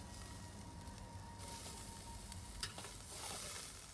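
Peaches sizzling on a hot grill over direct heat, a quiet, continuous crackle and hiss with occasional sharper pops.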